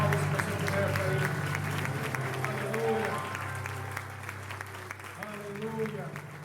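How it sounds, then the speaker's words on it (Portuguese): A church congregation claps in praise, a dense ongoing applause with a sustained tone and voices running underneath, fading slightly toward the end. "Melhor salva de palmas que você puder para Ele."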